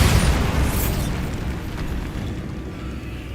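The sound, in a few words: Bombarda spell explosion in Hogwarts Legacy video game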